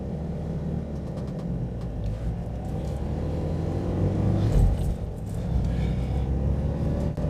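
Engine of a 1972 Toyota Celica pulling away in first gear, a steady low rumble that swells briefly as it revs, heard close with no talking.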